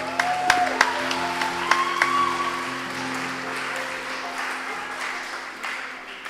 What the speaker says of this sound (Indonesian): Marilah kita dulu beri tepuk tangan buat mereka yang sudah berjuang corona.